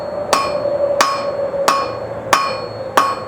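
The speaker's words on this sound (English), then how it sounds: "Just try to remember to lift that hammer high" Five evenly spaced hammer blows ring out on metal stock during hand forging, each strike a sharp clang with a bright, sustained metallic ring, close and loud with no voices.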